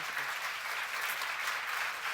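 A church congregation applauds during a sermon on the Psalms, a soft, even spread of many hands clapping together, fairly distant and steady throughout.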